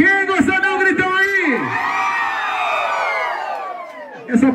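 Crowd at a forró bar whooping, shouting and cheering loudly, a sustained burst of voices with a few sharp whoops, then a voice starts speaking at the end.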